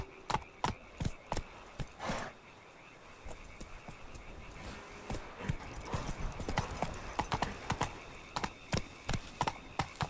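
Hooves of the horse Roach in the video game Witcher 3 clop in a quick, regular rhythm, close and clear over faint ambient game sound.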